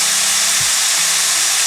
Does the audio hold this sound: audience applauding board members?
no